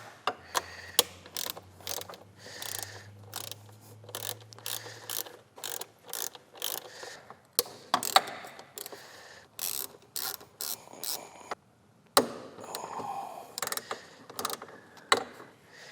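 A ratchet wrench clicks in quick bursts while T30 bolts are loosened from a car's upper charge pipe, a series of close, sharp pawl ticks with brief pauses between turns.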